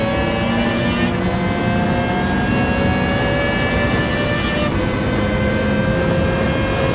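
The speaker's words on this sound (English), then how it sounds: "It's got a better Formula 1 sound than any Formula 1 game ever has." Spec III race car engine in Gran Turismo 7 plays loud and continuous throughout, a high, steady, harmonic racing note that shifts pitch sharply twice with gear changes.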